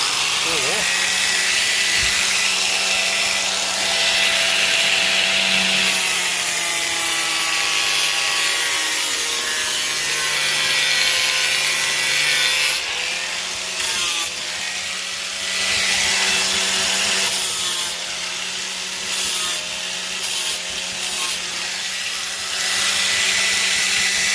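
Surface rust is scrubbed off a metal firebox with a powered tool. It makes a loud, continuous abrasive whirring grind that pitches up and down, breaks off briefly several times near the end, and has speech faintly under it.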